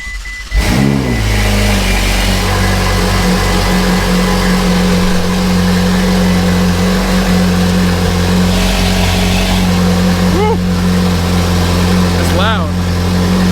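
A Ferrari 488 twin-turbo V8 fires up inside a workshop and settles into a loud, steady idle, with a couple of sharp revs blipping near the end.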